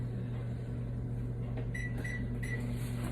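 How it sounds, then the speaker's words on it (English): A microwave oven warming a leftover drink gives off a steady low electric hum with a faint whirring fan, close by. A few short high beeps sound near the end. "So I'm just going to pop that in the microwave because that was from last night."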